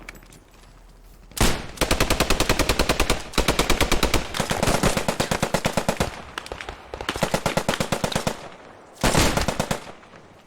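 Long, loud bursts of machine gun fire in the World War II shooter Post Scriptum, several rapid rattling volleys separated by short pauses, close and alone.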